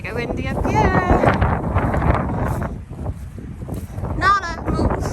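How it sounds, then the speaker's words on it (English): Strong wind buffeting the microphone on an exposed high spot during a dog training walk, a loud continuous rumble with bursts throughout and a person talking underneath. "Mega windy up here."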